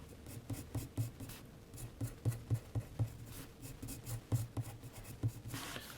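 Graphite pencil strokes on paper while copying a Rembrandt drawing of an old man with a cap: close, soft scratchy strokes repeating in an uneven rhythm, alone with no talk.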